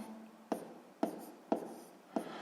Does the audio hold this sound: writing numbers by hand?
yes